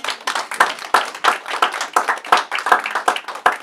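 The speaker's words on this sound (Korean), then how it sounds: "박수로 한번 격려합시다" A church congregation applauds to encourage a pastor, steady close clapping from a crowd with a loose, repeating rhythm of sharp hand claps.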